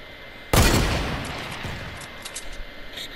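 A single loud sniper rifle shot cracks out in a Fortnite match, followed by a long fading echo and a few faint distant pops trailing behind it.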